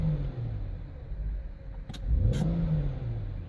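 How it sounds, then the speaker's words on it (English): Car engine idling steadily after a DIY repair, a low continuous rumble close by, with a short rev that rises and falls midway before settling back to idle. "It's idling good."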